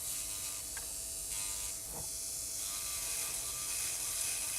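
An electric nail drill whirs steadily at 7,000 RPM in reverse while working gel nail extensions, a close, even high-pitched buzz with a faint mechanical rattle and no talking.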